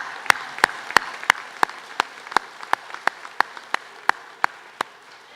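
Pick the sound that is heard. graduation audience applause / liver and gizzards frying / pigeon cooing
graduation audience applause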